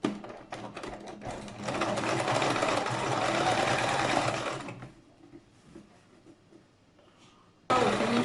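A sewing machine runs around the inside of a handmade hat, a loud steady whir for a few seconds after brief clicks, then stops, leaving quiet handling noise.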